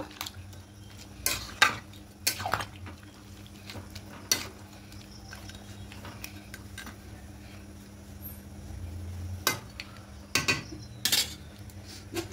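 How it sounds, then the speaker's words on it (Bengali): A spoon stirs and mixes chicken malai curry with coconut milk in a pan, giving scattered metallic clinks and scrapes over a low simmer, faint and close with no talk. "খুব ভালো করে মিশিয়ে নেব।"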